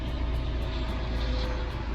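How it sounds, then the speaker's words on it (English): Helicopter passing overhead above a home garden, a steady broad rotor and engine rumble holding at a fairly constant level through the whole stretch, with no talking. "there's a plane coming over. Not plane, helicopter."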